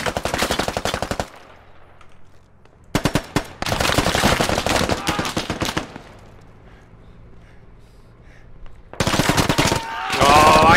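Bursts of automatic gunfire from the military shooter game Squad, loud rapid volleys broken by pauses, with another stretch of fire starting near the end and a faint low hum underneath.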